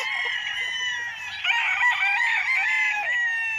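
Chickens and roosters on a farm lot in Liliw, Laguna crow and cluck steadily, with several overlapping birds calling close by, continuously loud throughout with no talk.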